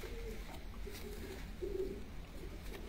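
Pigeons in a Punjabi pigeon-keeping loft coo softly and repeatedly over steady low background hum, the throaty calls rising and falling at moderate distance without talk.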